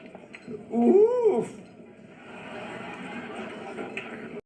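A person's voice imitates a dog barking, one drawn-out, rising and falling howl-like bark, loud and close, followed by faint background murmur.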